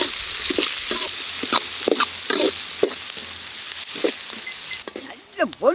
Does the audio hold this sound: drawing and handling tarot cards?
no